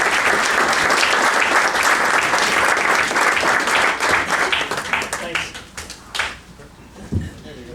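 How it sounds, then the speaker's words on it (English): Audience applause for Randy Mobley at the 2018 RBHS Hot Stove event in Rochester: dense, loud clapping from a crowd that thins into scattered claps over the last couple of seconds. "let's give another big Rochester round of applause for Randy"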